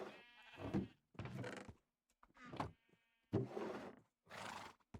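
A horse in the Minecraft video game neighs and whinnies in several separate bursts, five short tonal calls with silent gaps between them, close and fairly loud, with no talking.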